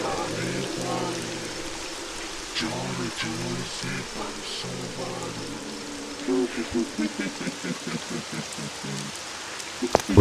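Steady rain patters on a surface on a stormy night, a soft continuous wash beneath tonal, hum-like music and rhythmic pulses that grow more insistent toward the end.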